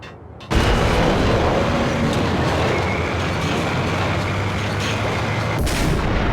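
Heavy shotgun fire in the Max Payne video game, a sudden loud blast that turns into a dense, sustained roar of booming gunfire and rumbling noise across the whole stretch, close and loud.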